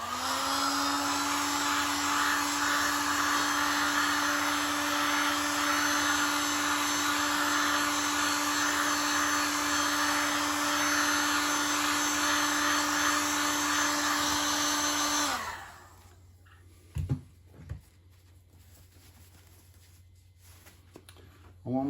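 A heat gun blows with a steady, loud whine and rushing air while heating thick Polyflor Polysafe sheet vinyl flooring at a corner, then cuts off abruptly, leaving a few soft handling knocks.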